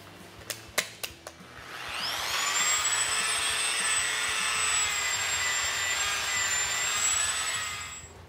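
A power polisher fitted with a soft white polishing pad buffs car paint. A few sharp clicks come first, then a steady close whirring hum spins up and holds for about six seconds before fading slightly.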